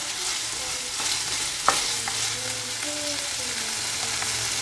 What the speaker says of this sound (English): Chop it nicely until this okra are cooked well and get brown color also.